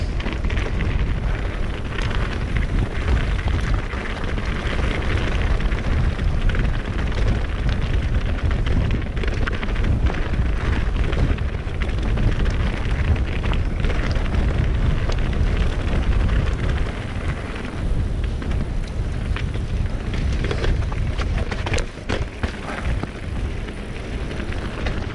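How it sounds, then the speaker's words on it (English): Strong wind roars across a mountain bike trail at Cwmcarn, a loud, continuous broadband buffeting that gusts and churns for the whole stretch with no talk over it. "this wind is incredible"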